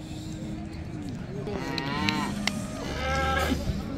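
Cattle at a busy weekly livestock market in Settat, Morocco, give long drawn-out moos, one after another, over a steady crowd murmur.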